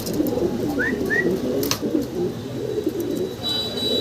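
Young fancy pigeons coo in a low, continuous murmur close by, with a couple of brief higher chirps rising over the steady cooing.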